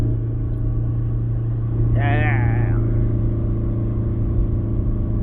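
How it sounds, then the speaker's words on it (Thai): A steady car engine drones and rumbles close by as it climbs a hill, with a brief voice heard partway through. "ฟังเสียงเครื่องยนต์ครับ"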